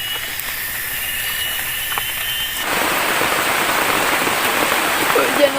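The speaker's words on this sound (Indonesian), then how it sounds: "Hujan terus guys, nggak berhenti-berhenti. Nambah deras hujannya." Heavy rain pours down in a forest near a treehouse, starting as a steady wash and abruptly swelling into a loud, dense roar of drops hitting surfaces about halfway through, with no voices.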